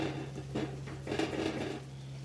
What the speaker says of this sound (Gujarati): ગોળ અને લોટ એકદમ સરસ રીતે મિક્સ થઈ જાય ત્યાં સુધી આપણે એ મિક્સ કરવાનું છે.